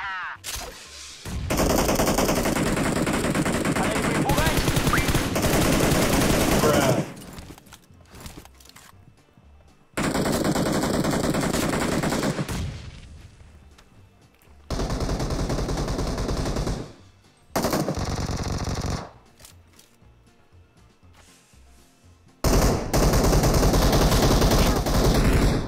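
Bursts of automatic gunfire from a battle royale video game, several loud sustained volleys separated by short pauses, with occasional quieter stretches between them.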